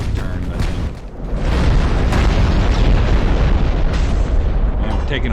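Naval shells slamming into a battleship's hull in Ultimate Admiral: Dreadnoughts, heard as a loud, sustained barrage of heavy booms and rumbling impacts that swells after a brief lull.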